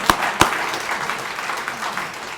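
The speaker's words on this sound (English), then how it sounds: "yes, give yourselves an applause." Applause from an audience at a political speech after the override of a governor's veto, a steady spread of clapping with two sharp louder cracks near the start, moderately distant.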